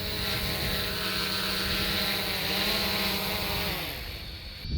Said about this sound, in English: So I'm going to grab the drone with all the bottom sensors on.